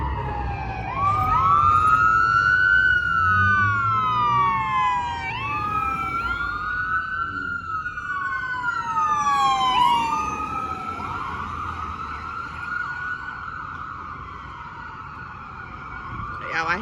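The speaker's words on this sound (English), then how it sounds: "Yeah, I hate seeing ambulances." An ambulance siren sweeps up and down in long wails as it passes on a street, loud at first and then easing off while fainter traffic noise continues underneath.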